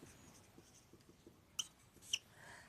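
Chalk or marker writing out a math solution on a board for a Class 12 inverse trigonometry lesson, faint quick scratchy strokes in short bursts with a couple of sharper taps, quiet and close.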